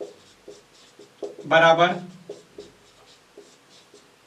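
Pen strokes scratch out a maths solution by hand, one dense scribbling burst of about half a second standing out while a teacher keeps talking in the background.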